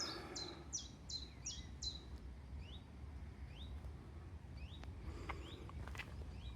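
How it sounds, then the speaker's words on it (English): Bird calls at Duddingston ring out outdoors: a quick run of repeated high chirps at first, then scattered thinner chirps over a steady low background rumble, moderately near and fairly faint. "Bird."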